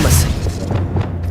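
A Confringo blasting spell bursts in the Hogwarts Legacy video game, a loud booming blast up front that rolls off into a low rumbling tail, with a faint voice-like murmur underneath.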